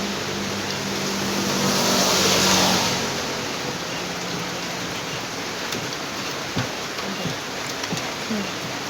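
Rain falling on a rainy day, a steady, even hiss that runs throughout at moderate loudness, with a faint swell early on and a few soft clinks and knocks on top.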